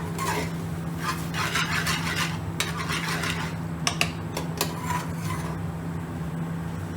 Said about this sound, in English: So I'm going to cook it out on a medium slow gas now for a further few minutes